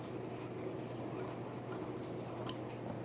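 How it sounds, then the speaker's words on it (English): Ginger fabric scissors trim fabric in a quiet room, giving a soft continuous snipping and rustling with one crisp click near the end, close and faint with no speech. "I will go ahead and trim it. These are my Ginger fabric scissors"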